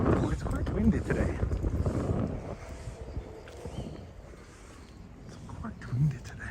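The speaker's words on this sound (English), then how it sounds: "Oh, it's quite windy today." Steady wind buffeting the microphone with low rumbling gusts throughout, swelling and easing, with a person talking underneath, on a walk along the Nogawa River in Tokyo.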